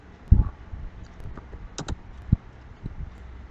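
Typing commands on a computer keyboard: a handful of separate key clicks and taps at an uneven pace, a few sharper presses standing out, close and alone with no talk.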